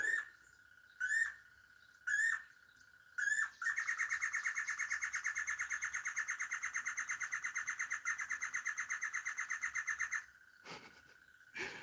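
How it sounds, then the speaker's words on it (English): A songbird sings close by in repeated bright chirps, first a few short separate calls, then a long rapid trilling phrase that runs for several seconds before breaking back into brief calls. "That bird is throwing some bars."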